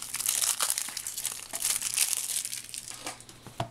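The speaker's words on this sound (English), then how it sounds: "now what you want to do is you want to go ahead and open up your sticky notes" Sticky notes being opened for a handmade breast cancer awareness card, heard as close, continuous crinkling and crumpling of paper and plastic wrap with sharper tearing bursts throughout, no talking.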